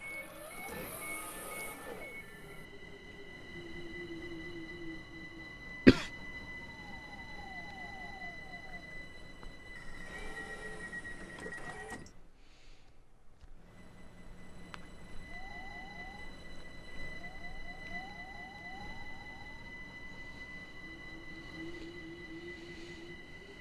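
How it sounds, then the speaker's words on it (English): A train passes through a station in the video game Minecraft, with continuous rolling rail clatter, rising and falling whistle-like tones, and a sharp single click, steady and moderately loud throughout. "There's another train."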